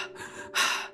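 A woman's sharp, breathy gasp from the film Midsommar, two quick inhalations in close succession, the second louder and harsher, heard near and alone.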